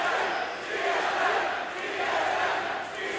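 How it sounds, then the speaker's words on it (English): An esports arena crowd roars and cheers for TSM at the 2015 NA LCS Summer grand finals against CLG, a dense, loud, continuous wash of voices that swells and dips slightly. "TSM definitely audible through the noise of the crowd"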